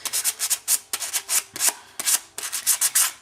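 Close, gritty sanding strokes on sheet metal for jewelry making rasp back and forth in quick bursts, a steady scratchy rhythm with brief pauses between passes.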